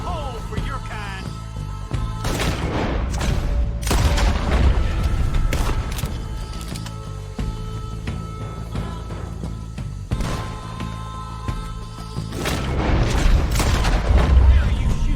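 Gunshots in the western game Red Dead Redemption 2, several heavy booming reports scattered over a steady background of music and ambience.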